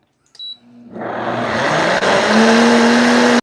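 A capped blender starts with a click and quickly spins up to a loud, steady whine as it purees tomato sauce, close and continuous for a few seconds with no talking.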